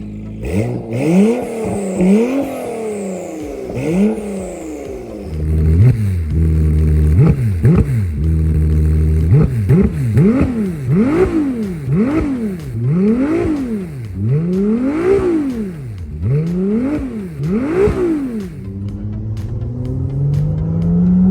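A 2025 Ferrari 296 GTB in stock form and a 2022 Acura NSX Type-S fitted with downpipes and aftermarket exhaust rev in turns, loud and close, with repeated sharp throttle blips rising and falling in a steady rhythm.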